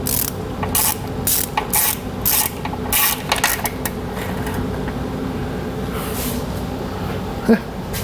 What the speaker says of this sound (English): Hardest part is getting your socket started on the bolt.